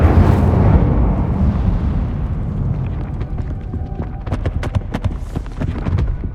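The Incendio fire spell in Hogwarts Legacy is cast as a loud burst of flame. It roars at the start, then fades into crackling pops and sharp snaps, with faint music beneath.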